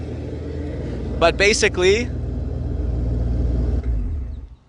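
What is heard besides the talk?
simulated engine sound from JL Audio subwoofers under Tesla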